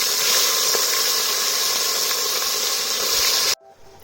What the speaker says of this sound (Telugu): ఇప్పుడు చేపలు పోపుకి వేసుకోవాలి